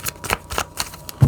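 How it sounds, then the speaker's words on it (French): Playing cards snap and flick in a quick burst of shuffling and dealing for a tarot reading, close and crisp, ending in a soft thump. "Donc je vais remettre 2 cartes ici, 2 cartes là-bas."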